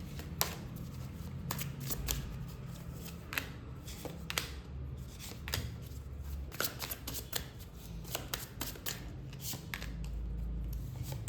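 Cards are shuffled during a spiritual card reading, a run of crisp riffling and snapping bursts repeating steadily for several seconds, close and fairly quiet over a low hum with no talking.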